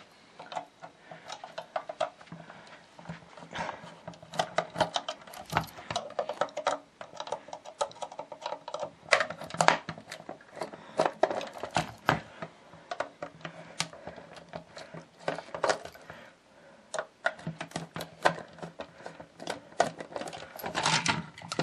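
Phillips-head 3.0 mm screwdriver backing screws out of a Sega 32X console, a dense run of small close ticks, clicks and scrapes in uneven bursts, with brief pauses and no talking.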